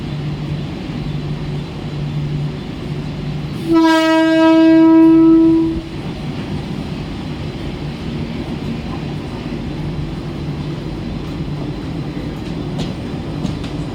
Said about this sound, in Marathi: प्लॅटफॉर्म क्रमांक 1 वर आलेली लोकल 10:20 ठाण्याला जाणारी ही लोकल